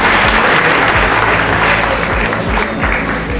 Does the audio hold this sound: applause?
yes